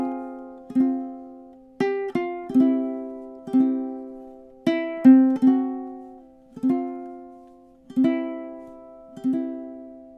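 Solo ukulele plays the chords, with crisp strums spaced about one per second, each ringing and decaying, close and clear with no voice.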